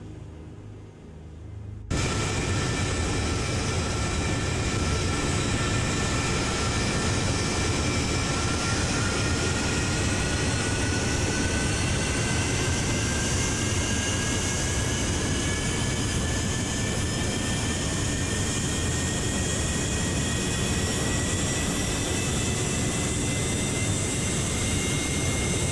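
B-52 bomber engines in Sea Power roar loud and steady as one continuous jet drone, with whining tones that rise slowly. A short quiet stretch comes at the very start.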